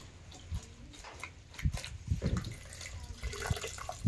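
Fresh fenugreek leaves are washed by hand in a vessel of water, with irregular close splashes and sloshing that grow busier toward the end.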